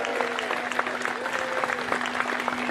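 Steady applause from a crowd, dense clapping at moderate volume, with a faint tone and some voices underneath.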